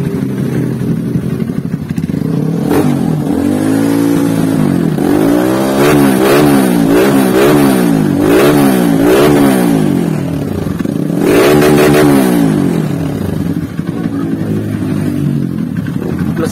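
A Honda CRF trail motorcycle engine idles loudly up close, then revs up and down repeatedly in rising and falling sweeps before settling back to a steady idle.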